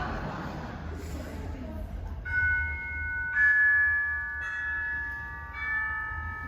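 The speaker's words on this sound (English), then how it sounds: "Sounds like someone's playing with some bells." Several bell tones ring out one after another, clear and steady, over a low background rumble.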